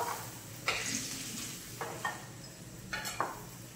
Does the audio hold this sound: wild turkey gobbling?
no